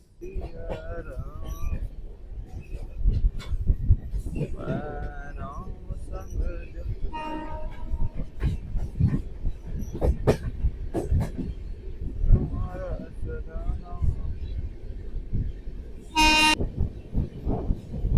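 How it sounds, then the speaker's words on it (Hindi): Heard from aboard an Indian express train overtaking the Howrah Kalka Netaji Express near Sasaram Junction, wheels rumble and clatter while horns toot in short bursts. Indistinct voices are also heard. "हमारी ट्रेन अब ओवरटेक कर रही है हावड़ा कालका नेताजी एक्सप्रेस।"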